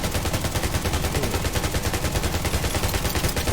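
Automatic gunfire in the video game Undawn, a loud, unbroken stream of rapid shots hammering in a fast, even rhythm from start to finish.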